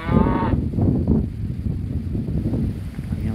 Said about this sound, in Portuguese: Nós estamos no meio de um lugar que está cheio de boi aqui